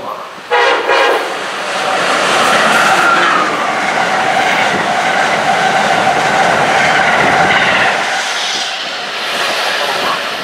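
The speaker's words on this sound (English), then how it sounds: "Oh boy, that was a nice train." A loud Amtrak Northeast Regional train rushes past up close at Readville station, a steady roar of wheels and rumbling cars with a horn-like tone, fading slightly at the end.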